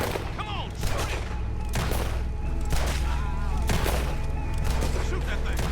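Gunfire in the video game Red Dead Redemption 2 during a fight with a big alligator, dense overlapping shots and booms under continuous loud game noise, with characters shouting over the action.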